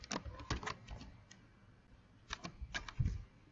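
Soft, quiet keystrokes on a computer keyboard come in short clusters of taps with pauses between them, faint and distant, with no voices.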